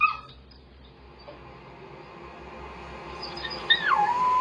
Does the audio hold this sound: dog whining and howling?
yes